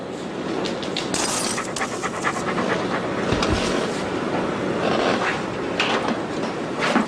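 A dog pants rapidly and steadily close up, a busy breathy rasp that continues without a break, with no clear talk over it.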